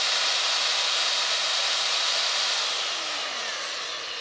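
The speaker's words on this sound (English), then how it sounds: "the next thing I like to do is plug in this corded drill" A corded power drill runs continuously on a portable Oupes Mega 1 power station, a loud, steady, high-pitched whir close by that holds level and then dips slightly toward the end, with no talking.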